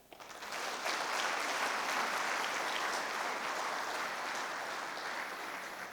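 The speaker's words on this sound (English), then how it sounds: "asking for a big round of applause by everyone for everyone" A large audience at a national exporter awards ceremony in Fiji breaks into sustained applause, swelling quickly and holding steady as a dense, even wash of clapping with no talk over it.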